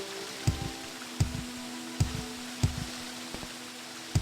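A video game character jumping repeatedly, each jump a soft thud with a short scuffing landing, spaced about every three-quarters of a second over a low steady ambient tone, with no one speaking.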